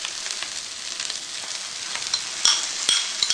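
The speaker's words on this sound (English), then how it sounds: "Be sure you keep an eye on your onions and frequently stir so they don't burn" Onions sizzle steadily in a hot pan for a chicken curry, with a bright continuous frying hiss and a few louder scraping stir strokes near the end.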